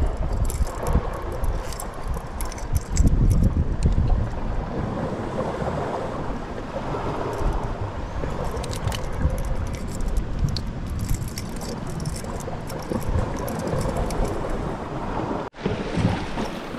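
Strong wind gusting across an isolated shallow-water fishing spot in Palawan, a continuous broad roar with rumbling buffets, mixed with surf and water sounds and a brief rattle near the end.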